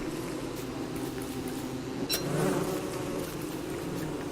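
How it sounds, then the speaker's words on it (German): Bees buzz constantly in the game Don't Starve Together, a dense droning hum, with a brief sharp click partway through. "weil ich da die netten Arbeiterbienenli sammle, dann kommen da Kampfbienenli"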